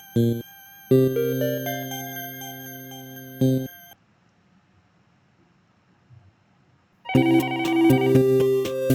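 A hotel room telephone rings with a loud electronic tone, a burst that stops, then a longer ringing stretch, a pause of near silence, and the ringing starting again, with no talk over it.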